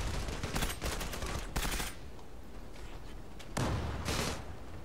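Gunfire in the online shooter Zula, with bursts of rapid shots at about one second and again near four seconds, moderately loud against a constant game background.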